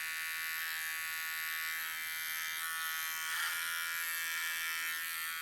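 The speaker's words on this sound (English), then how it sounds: "I'm literally placing the clippers onto the skin." Steady electric buzz of hair clippers held against the skin while tracing along a hairline, close and continuous with no talking.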